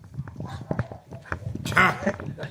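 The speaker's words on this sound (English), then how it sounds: "deputies follow the sounds of barking coming from upstairs" A dog barks repeatedly from upstairs in a house during a police call, sharp barks and whines in an irregular rhythm, with a louder burst near the end, under people talking nearby.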